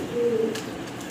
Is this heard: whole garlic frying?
no